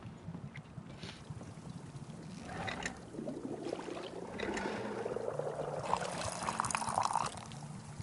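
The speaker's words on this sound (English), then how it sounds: "And pour him a glass." A drink pours steadily into a glass in the cozy game Wanderstop, a soft liquid trickle rising over several seconds against a quiet background, with no talking.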